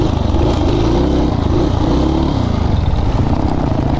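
A dirt bike engine revs continuously and loudly up close, a steady throaty drone with slight rises and dips in pitch, running without pause and with no voices over it.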